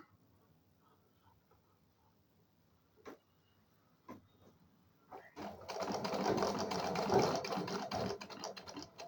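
A sewing machine stitching a saree fall runs in a brisk, steady burst near the end, after a few faint isolated clicks and taps in a quiet room.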